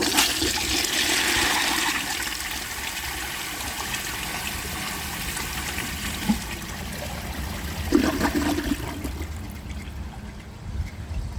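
A 1934 Bowers Pottery toilet flushes a dish towel down, a loud steady rush of water that fades into gurgling siphon and trickling refill with no talk.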